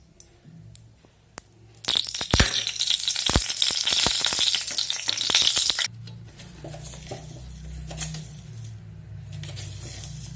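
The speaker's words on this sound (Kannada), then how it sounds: "ಒಂದು ಅರ್ಧ ಸ್ಪೂನ್ ಸಾಸಿವೆ ಹಾಕ್ತಾಯಿದ್ದೀನಿ" Half a spoon of mustard seeds dropped into about two spoons of hot oil in a pan on a lit stove crackle and sputter loudly for several seconds. The sizzle then drops to a gentler simmering hiss.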